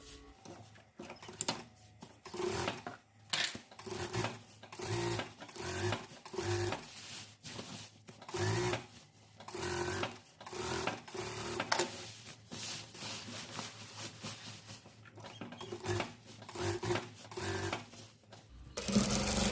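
A sewing machine runs a topstitch along a seam of a ribbon dress in quick, steady bursts of mechanical chatter, close by, with short pauses between runs and no talking.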